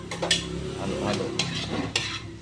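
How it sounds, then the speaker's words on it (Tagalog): A spoon scrapes and stirs pork steak with calamansi in a pan, clinking against the metal in quick strokes over a soft, steady sizzle. "Halo."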